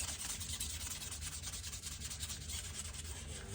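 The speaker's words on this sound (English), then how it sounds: "And the reason I sand with oil like that" Rhythmic back-and-forth rubbing of a knife blade on worn, fine, oiled sandpaper, soft and close, with quick repeated strokes and no talking.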